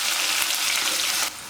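Crushed onion frying in hot coconut oil with dense, steady close sizzling and crackling that drops off sharply near the end.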